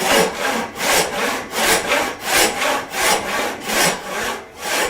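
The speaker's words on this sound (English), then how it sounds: "you need to use your whole body when moving the saw" A hand saw resaws a wooden beam in slow, even strokes, about eight rasping pushes and pulls in a rolling rhythm. The sound is close and loud, with no talking.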